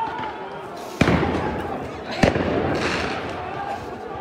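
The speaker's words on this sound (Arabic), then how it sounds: "هناك العشرات من قنابل الصوت والغاز في المسجد الأقصى" Stun grenades and gas grenades going off at Al-Aqsa Mosque during violent clashes: two sharp bangs about a second apart over steady crowd and street noise, with voices in the background.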